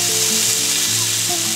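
Grandma stir-frying a dish in a wok in a rural home kitchen, a loud continuous sizzle of hot oil with steady stirring, close up and with no voices.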